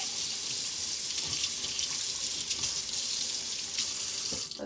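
Hot tap water runs steadily into a sink while a paintbrush coated in candy melts is rinsed under it, a continuous close splashing hiss with no talking.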